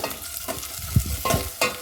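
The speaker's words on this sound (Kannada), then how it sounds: "ನೆಕ್ಸ್ಟು ಈರುಳ್ಳಿ, ಮೆಣಸಿನ್ಕಾಯಿ ಒಗ್ಗರಣೆಗೆ ಹಾಕೋಣ. ನೆಕ್ಸ್ಟು ಅವು ಬೇಯಲಿ, ಸ್ವಲ್ಪ ಫ್ರೈ ಆಗಲಿ ಅವು" Oil sizzling in a pan with onions and chillies frying as tempering for okra sambar, punctuated by a few louder stirring scrapes at irregular intervals, no voices.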